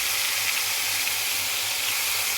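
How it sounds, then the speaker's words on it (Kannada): Soaked fish pieces frying in shallow oil on a low stove flame: a constant, dense sizzle and hiss, loud and close, with no pauses. "ಇವಾಗ ನೆನೆಸಿದ್ದಂತಹ ಅವು ಫ್ರೈ ಮಾಡಕತ್ತಾರ"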